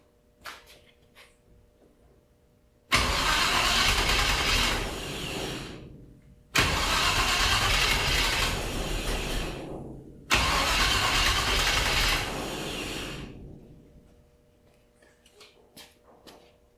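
A car engine fitted with old-school cylinder heads is cranked three times in a row. Each loud burst of churning starter and engine noise lasts a few seconds before cutting out, with faint clicks and background noise between the attempts.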